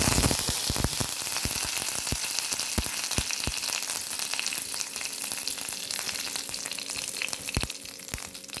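Curry leaves hit hot oil in a pan for a Kerala egg roast, with a dense, steady crackling sizzle and sharp pops scattered throughout, loud and close with no talking.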